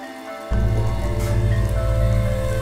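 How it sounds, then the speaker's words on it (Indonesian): Rain starts falling in the Himalayas near Solukhumbu, Nepal, with a sudden onset into a loud, steady, close hiss that continues without a break. "hujan mula turun membasahi bumi Himalaya ini"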